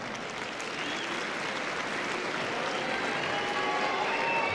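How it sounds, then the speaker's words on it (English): Tennis crowd at a 1994 Paris indoor semifinal between Agassi and Bruguera, a broad steady wash of arena noise with scattered clapping and murmuring reaction, sustained and fairly distant throughout. "Some of the crowd don't like the call"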